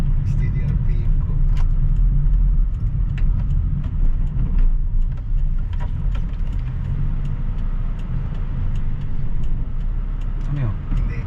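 A 2017 Hyundai Accent 1.4 idles steadily with a low-power fault. Its engine gives a continuous low rumble, close and fairly loud, while people talk over it.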